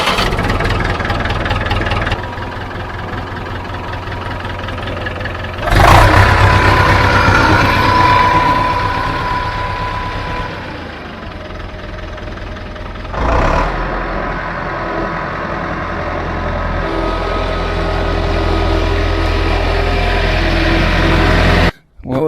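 A vintage David Brown DB990 tractor engine runs steadily with a deep, loud rumble, revving up around gear changes as the tractor moves off under its own power, then cutting out at the end.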